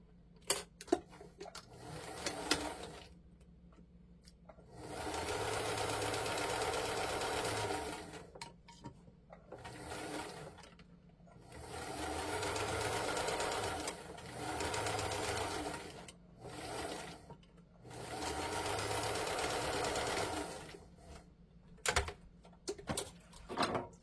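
A sewing machine stitching a side seam runs in several steady whirring bursts of a few seconds each, separated by short pauses and small clicks, heard close up with no talk.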